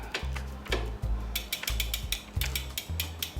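Bicycle ratchet tool clicking rapidly while tightening bolts on a Specialized Creo SL e-bike, close and crisp in repeated bursts of pawl clicks with brief pauses.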